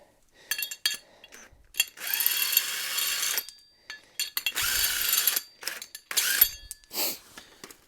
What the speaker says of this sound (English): Undo these lug nuts right here.